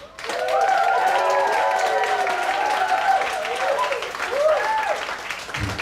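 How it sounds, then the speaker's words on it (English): An audience at a PechaKucha Night in Ubud, Bali, applauds the evening's speakers: steady, loud clapping lasting several seconds, with whooping cheers and raised voices rising over it, then easing slightly near the end. "I want us to give a big warm applause to our speakers tonight"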